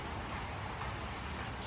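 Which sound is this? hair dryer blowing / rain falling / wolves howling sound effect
rain falling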